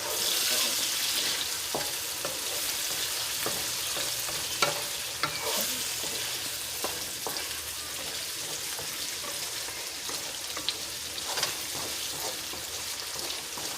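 Salmon frying in a pan with ginger and garlic gives a steady, close hiss of hot oil, dotted with sharp pops and occasional scraping stirs throughout.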